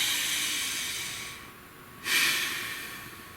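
A long, breathy exhale and inhale close to the microphone, hissing steadily, dipping in the middle and then swelling again into a fresh deep breath, with no talking.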